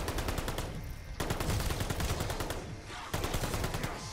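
Rapid bursts of video game weapon fire, loud and close, in three sustained volleys separated by brief pauses, with dense repeated shots throughout.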